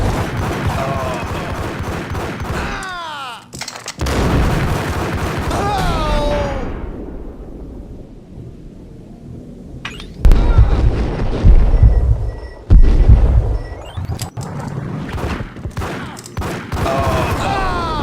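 Bursts of gunfire in the Max Payne video game inside a maze-like hotel level, loud volleys breaking out between quieter stretches of wind, with a game character speaking at times.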